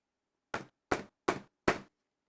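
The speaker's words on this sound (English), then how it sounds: "Who could be knocking at such an early hour?" Four firm knocks on a door at an even, steady pace, close and clear with silence around them.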